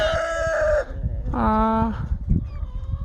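A rooster crows twice, loud and close, the second call longer, over a low bed of chickens clucking and shuffling in a backyard run.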